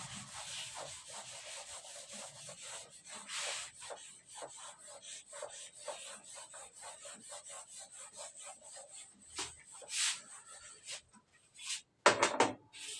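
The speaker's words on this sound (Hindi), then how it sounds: "बस इसे रब कर रहा हूं, ठीक है।" Steady scrubbing and rubbing as writing is wiped off a board during a maths lesson, soft repeated strokes running throughout, with a louder clatter near the end.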